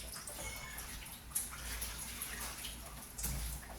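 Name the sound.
water being poured into a pot for cooking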